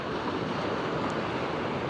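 Sea waves wash continuously onto a beach, a broad steady roar of surf mixed with some wind buffeting the microphone, with no voices.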